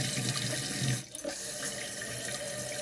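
Water runs steadily into a tank fitted with a float valve, a continuous close hiss of flow with a brief dip near the middle before it resumes at an even level.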